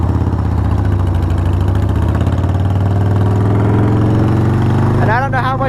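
A 1994 Harley Davidson Sportster 1200 runs close and loud, its engine thumping in a steady, lumpy idle whose pitch climbs slightly as it revs up toward the end.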